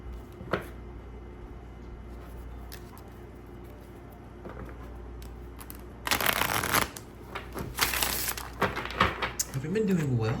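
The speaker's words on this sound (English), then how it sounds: "I'm gonna shuffle really fast, and then we will hop into your message." Tarot cards shuffled quickly by hand, preceded by a few seconds of quiet room tone with faint bird coos, then loud, close bursts of riffling and fluttering cards in rapid succession.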